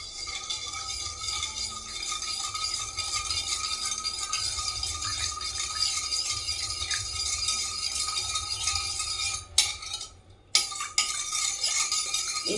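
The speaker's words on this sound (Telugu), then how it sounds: "దీనిలోనే మనకి 2 చెంచాల చక్కెర, 2 చెంచాల చక్కెర. దీన్ని బాగా కలపాలి." A spoon stirs sugar into lukewarm water in a bowl, a continuous close rattling and clinking of metal against the bowl that breaks off briefly near the end before resuming.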